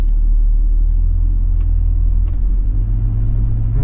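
A BMW E39 525i pulls away at the start of a test drive, its low engine rumble steady and close inside the car, dipping in pitch partway through as the gear changes, with no talk over it.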